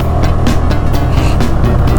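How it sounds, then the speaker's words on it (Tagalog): A truck drives along the mountain Halsema Highway in Benguet, its engine a loud, close, steady drone that fills the whole two seconds. "Mahirapan tayong unahan tong truck."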